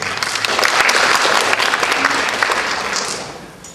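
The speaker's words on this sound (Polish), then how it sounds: "te skromne brawa wiążą się z tym, iż to jest początek koncertu" Modest applause from a concert audience at the start of a benefit concert, steady clapping that holds for a few seconds and then fades away.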